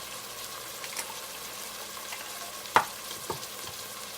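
Onion and tomato paste sizzle steadily in a pan for jollof rice, a soft continuous frying hiss with a couple of faint stirring clicks and taps, no talking.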